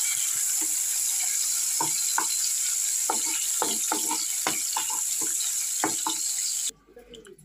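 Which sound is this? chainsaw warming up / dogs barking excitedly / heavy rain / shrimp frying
shrimp frying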